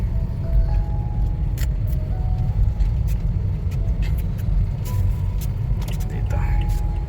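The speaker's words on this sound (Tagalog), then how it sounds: "Tatabi lang natin yung kotse natin dyan." A car pulls over to park, heard from inside as a steady low road rumble with scattered faint clicks and ticks and soft, murmured voices underneath.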